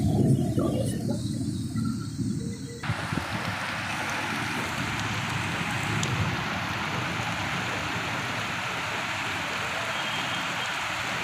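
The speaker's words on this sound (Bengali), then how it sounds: "মুষলধারা বৃষ্টি হচ্ছে" Torrential rain pours down in a dark lightning storm near buildings and hills, a dense, unbroken roar of drops that is loud and close throughout, with a brief change in texture near the start.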